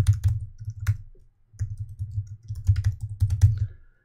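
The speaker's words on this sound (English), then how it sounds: "And then you just type in the address," Keys clacking on a computer keyboard as an email address is typed, rapid bursts of close, crisp strokes with a short pause midway and no talking.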